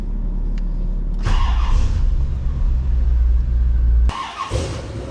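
A project Corvette's engine idles low and loud, then surges in a sharp rev as the car pulls away, a second burst following near the end, close and alone.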